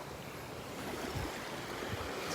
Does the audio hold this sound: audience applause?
no